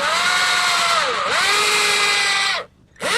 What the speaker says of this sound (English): start my drill bit at the back edge of the rail